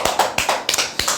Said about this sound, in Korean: 네, 박수 한번 치시죠.